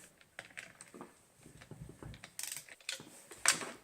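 Socket wrench with a small extension and 10 mm socket turning a bolt on a child's bike, close-up ratcheting clicks and metallic taps in short irregular bursts, fairly faint.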